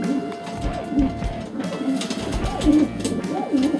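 A red cock pigeon, heavily black-splashed, coos repeatedly in low, rolling calls close by, several in a steady rhythm, with light rustling and handling noise around it.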